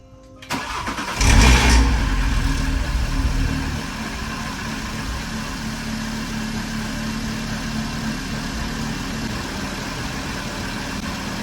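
An Audi RS3 engine, after new spark plugs, cranks briefly, catches with a loud roar, then settles into a steady idle that continues to the end.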